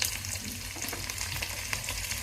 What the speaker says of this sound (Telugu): ఎల్లిపాయలు కట్ చేసి పోపులు వేస్తున్నాం